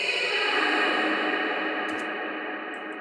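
A reversed vocal sample drenched in fully wet reverb with a long decay of about 12 and no high cut, heard as a dense, sustained, smeared wash of sound that swells and slowly fades, with no talking.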